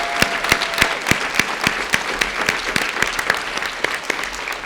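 An audience gives a speaker one more round of applause, steady dense clapping from a crowd with a few sharper individual claps standing out near the front.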